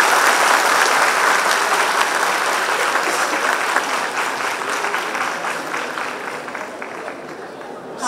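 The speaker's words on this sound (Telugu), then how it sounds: "ఒక్కసారి ఆదిలాబాద్ వాళ్ళు ఆదిలాబాద్ రేంజ్లో గట్టిగా చప్పట్లు కొడితే ప్రోగ్రామ్ షూట్ చేద్దాం" An audience at the LRF Awards 2025 in Adilabad claps loudly and steadily for about eight seconds, a dense, sustained applause that eases off slightly toward the end.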